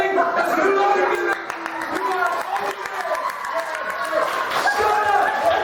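Crowd at a live New Zealand pro wrestling show in 2014, applause and chatter filling the hall while someone talks loudly over the noise.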